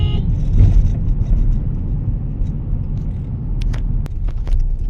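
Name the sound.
Tata Harrier SUV engine driving in third gear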